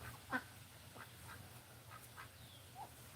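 A duckling quacking in a farm video game, a few faint separate quacks spread over a quiet background.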